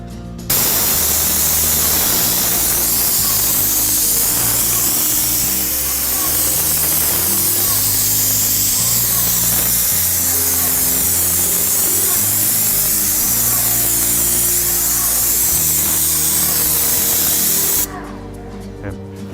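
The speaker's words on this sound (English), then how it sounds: "all I need to do is spray the 30 mil continuous membrane with a minimum lap back up on 3 inches onto the membrane" Vycor enV liquid weather-resistive barrier membrane, 30 mil thick, being sprayed onto a wall detail, a steady loud hiss of the sprayer running almost without a break, with a low machine hum beneath it.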